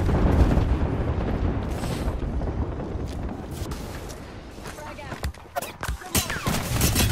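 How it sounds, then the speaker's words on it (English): A grenade goes off in the Apex Legends video game, then a dense run of rumbling blasts and gunfire. Loud and continuous for most of the stretch, with sharper bursts near the end, under an excited voice. "That's my grenade, it's my grenade"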